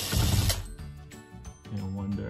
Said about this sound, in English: We're gonna remove the two Phillips screws inside.